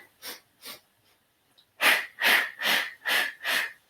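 Paced deep breaths during a guided mind-body exercise: two softer breaths, a pause, then five strong, rhythmic, evenly spaced breathy exhalations, close and clear.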